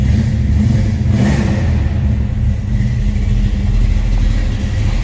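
A 1956 Chevrolet Bel Air Nomad with a 4-speed manual rumbles loudly up close, its engine revving with a deep steady throb that swells briefly before settling back into a heavy idle.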